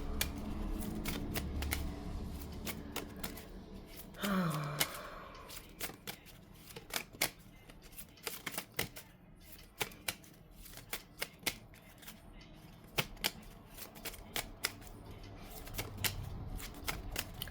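Tarot cards being shuffled up close, a run of quick crisp riffles and flicks coming in irregular bursts, with a short swish partway through and no voices.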